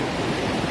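Steady, dense rush of water streaming down a mountainside beside a trail on the Appalachian Trail, a broad continuous roar with no voices.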